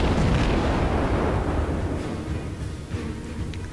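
Naval guns firing in the World of Warships video game, a loud heavy blast right at the start followed by a rumbling roar that slowly fades over a few seconds, with no voices.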